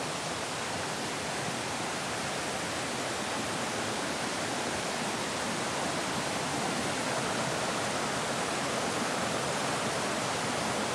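A creek rushes beside a hiking trail in NW North Carolina, a dense, steady broadband wash of flowing water that stays loud and unbroken throughout.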